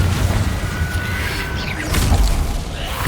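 In Hogwarts Legacy combat, a Confringo fire spell bursts with a low rumbling boom and a whooshing flare, followed by a second heavier thud, loud over busy battle noise.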